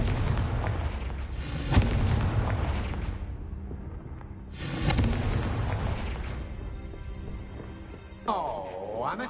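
Confringo fire spell in the Hogwarts Legacy video game, two heavy booming blasts a few seconds apart, each trailing off into a rumbling decay, followed by a whooshing magical swirl near the end.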